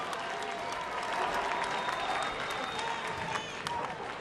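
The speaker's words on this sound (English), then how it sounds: "Fans applaud the effort of Rita Zuhir and the rest of SAFC." Soccer fans applaud San Antonio FC during a match against Pittsburgh Riverhounds SC, their distant, steady stadium clapping blending with the crowd murmur while a commentator talks over it.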